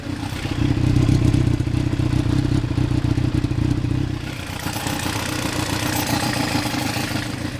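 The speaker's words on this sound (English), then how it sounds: "Like, engine sounds pretty healthy too." A barn-find Suzuki GSX-R750 motorcycle engine idles steadily on first start with a low, throbbing rumble and mechanical clatter, the tone shifting slightly partway through.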